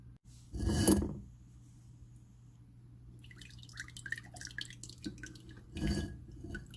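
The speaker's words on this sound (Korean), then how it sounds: "오늘은 깔끔하게 먹을 수 있는 법으로 체에 한번 걸러볼게요." Soybean paste and chili paste are worked through a sieve for a spicy crab stew, giving faint wet scraping and dripping, with soft louder bursts near the start and the end.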